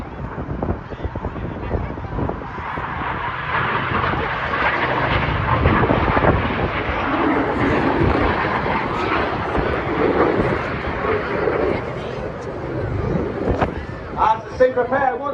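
Display team jets pull a 6G manoeuvre at the Blackpool air show, a broad, sustained roar in the distance mixed with wind buffeting while a commentator talks over it throughout.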